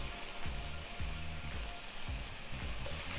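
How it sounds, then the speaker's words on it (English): Diced onions and minced garlic frying in hot oil give a steady, fairly quiet hiss, broken by repeated low rattling scrapes in a loose rhythm as they are tossed. "I'm gonna add my diced onions to the oil"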